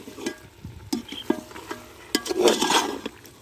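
Beef with chillies, garam masala and dried coriander being stirred in a pan for a village-style beef namkeen, with scraping strokes and a soft sizzle in uneven bursts, fairly close and heard alone.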